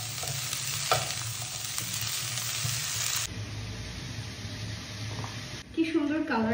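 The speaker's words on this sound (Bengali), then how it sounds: "আমি একটু ভেজে নিই" Cauliflower frying in a pan for a curry, a loud, dense sizzle with stirring scrapes that eases after a few seconds, while a voice talks over it near the end.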